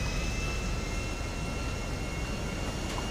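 Distant airplane engine in GTA 5 Online, a steady broadband jet roar with a faint high whine, continuous and unbroken throughout with no talking.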